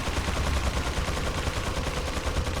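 Sustained, rapid machine gun fire from the video game Resident Evil 4, a dense unbroken burst of shots that stays loud and steady throughout, with no talking over it.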